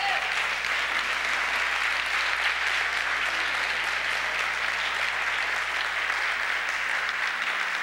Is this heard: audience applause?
yes